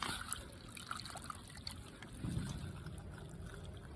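A rock is rinsed in muddy Mississippi River water, producing a faint, steady trickling and splashing close by, with no talking.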